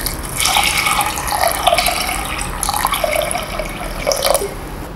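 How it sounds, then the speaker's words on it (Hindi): Water pours steadily into a metal pressure cooker, a continuous splashing gush with a few brief pauses, close by and moderately loud. "और अब इसमें हम पानी मिलाएंगे।"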